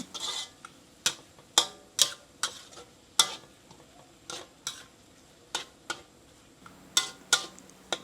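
Pork and halved meatballs stir-fried with dried chilies in a pan: rhythmic spatula scrapes and clacks strike every half second or so over a quiet, steady sizzle.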